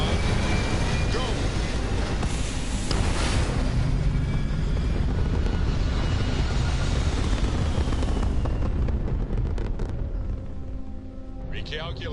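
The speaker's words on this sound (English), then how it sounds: "Ready for takeoff in 3, 2, 1, go!" A spaceship in the video game Starfield lifting off, a loud sustained roaring rumble with wind-like noise that holds steady then fades slightly toward the end, with a voice talking over it.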